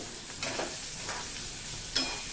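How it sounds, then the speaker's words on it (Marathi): Onion and garlic sautéing in a tempering for zunka give a quiet, even sizzle. Three brief swells of stirring stand out, the last one the sharpest. "हा जो कांदा आहे हा छान गुलाबी रंगावरती छान मस्तपैकी परतून घेणार आहोत"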